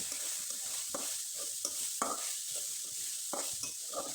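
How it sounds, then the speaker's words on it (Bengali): A spoon stirs a palm, peanut and apple momo filling in a pan, with soft repeated scrapes and taps over a steady frying sizzle, close and quiet, and no one speaking. "এখন শুধু সব কিছু একটু ভালোভাবে মিশিয়ে নেব।"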